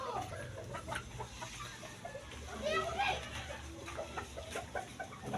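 Chickens cluck around a home while a person talks nearby, with a steady bed of outdoor background noise and scattered brief calls throughout.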